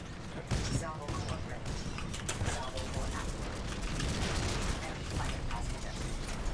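Gunfire in the shooter game Titanfall 2 crackles as a steady stream of rapid, fairly faint mechanical shots and impacts through the whole stretch, with a player talking over it.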